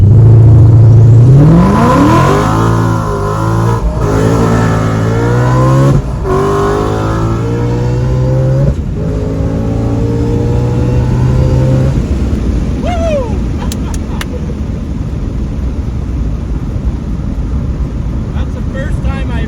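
A Ford Mustang V8 launching and accelerating hard in a race against a BMW, loud and close, with engine revs climbing and dropping through gear shifts before fading into wind and road rush.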